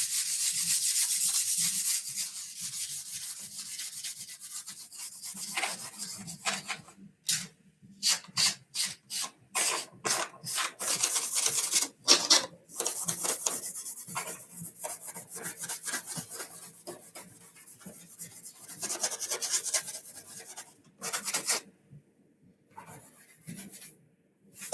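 A Scotch-Brite pad rubs across an E-flite A-10 Thunderbolt II model airplane during weathering, giving a steady close-up scrubbing rasp in bursts with short pauses, alone without talk.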